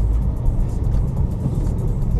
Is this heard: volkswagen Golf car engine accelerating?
yes